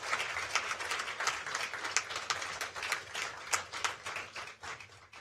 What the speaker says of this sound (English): give a big round of applause to all our supporters and funders.